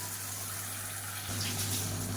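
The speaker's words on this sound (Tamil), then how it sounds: "இப்போ மிக்சி அலசிட்டு அந்த தண்ணியை சேர்த்துக்கலாம்" Rinse water from a mixer jar is poured into a pan of radish chutney on the stove, giving a steady rushing gush that swells louder halfway through over a low hum.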